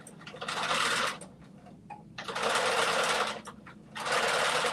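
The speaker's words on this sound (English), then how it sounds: "So this is just a little bit of sewing." A sewing machine stitches in three bursts of rapid, close mechanical whirring and clatter, separated by quieter pauses with faint room noise.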